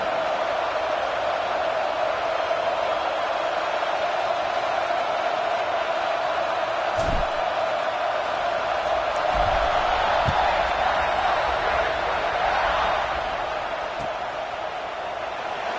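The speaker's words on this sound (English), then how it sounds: "this crowd is buzzing after that last score" Stadium crowd at a Buckeyes versus Wolverines college football game, a steady broad roar of many voices filling the whole stretch, with a few brief thumps and swells of cheering rising near the end.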